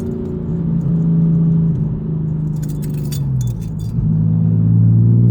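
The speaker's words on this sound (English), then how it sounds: "You hear a lot more tone underneath, mostly underneath the revs." A BMW E36 engine drones steadily with a deep exhaust tone through a Guerrilla exhaust, pitch sagging then climbing again as it revs, loud and close.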